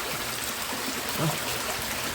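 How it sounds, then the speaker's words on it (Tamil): Steady rushing water from a stream at a cave temple, a continuous broadband wash with a slight swell near the middle, no voices. "தண்ணி இந்த பக்கமாக கீழே போகுது"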